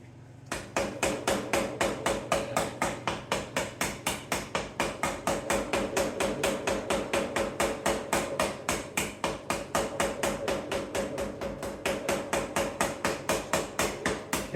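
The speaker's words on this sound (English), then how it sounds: "we can hammer and dolly this too" Rapid, steady hammer-and-dolly strikes on a car body panel, close and loud metallic taps in an even rhythm of about four or five blows a second for the whole stretch.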